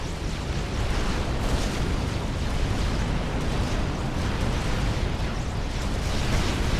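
Mobile missile launchers in Supreme Commander: Forged Alliance pound a shield with missiles, making a dense, continuous roar of overlapping explosions that stays loud and steady throughout.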